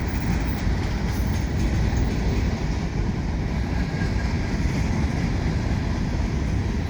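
A CP freight train with a Norfolk Southern locomotive and GP20C Echo rolls past, a dense, loud, steady rumble of wheels and cars with faint rhythmic clatter, continuous and close with no talking.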